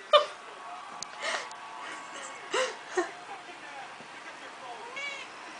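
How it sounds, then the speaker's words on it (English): A cat gives several soft, faint meows and whimpers at irregular intervals in a quiet indoor room. "Okay, fat cat."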